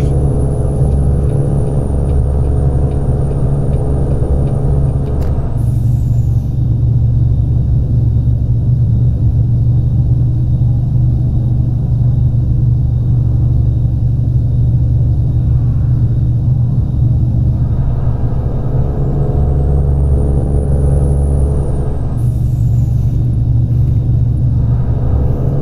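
Kenworth W900 truck engine in American Truck Simulator, a steady deep low rumble that drones continuously and loudly throughout, with no talk over it.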